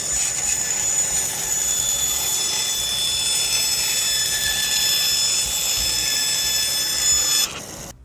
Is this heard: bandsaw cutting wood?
yes